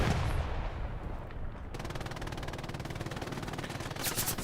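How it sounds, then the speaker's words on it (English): Heavy gunfire and explosions fill a Hell Let Loose battle at Juno Beach. A dense, continuous roar with rapid rattling bursts stays loud throughout, and a brief muffled lull comes early on. "got some good grenade tosses"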